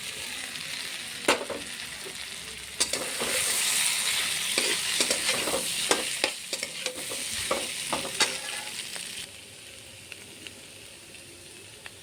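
Fish head cooked together with fried spices, stirred in the pan with a steady close sizzle and repeated scraping of the spoon, then settling to a softer hiss near the end.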